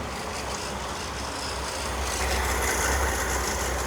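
A 1966 Chevy Corvair fitted with a new HEI distributor idles in drive at about 600 rpm, giving a steady, even, close rumble with no talking.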